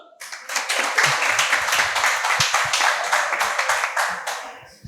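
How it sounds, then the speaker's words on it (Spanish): Audience clapping after a call for applause on a Spanish talk show about boat racing, a steady patter of many hands lasting the whole stretch, with a voice briefly heard beneath it. "¡Un aplauso!"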